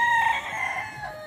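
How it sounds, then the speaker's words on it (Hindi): A rooster crows once, a loud, near, drawn-out cock-a-doodle-doo in a desi farmyard setting beside a home kitchen, heard alone with no talking. "हाँ मुर्गे की बांग सुनी आपने"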